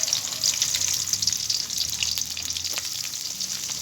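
Chopped onion and garlic frying in a pan in a home kitchen, giving a steady bright crackling sizzle throughout, close and continuous, with no speech.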